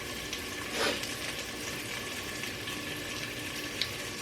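Onions sauteing in a soup pot give a steady low sizzle and hiss, faint and continuous, with a brief louder rustle near the start and a small click toward the end.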